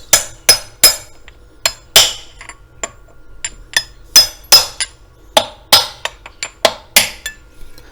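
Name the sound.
tapping KTM engine part into place with aluminium block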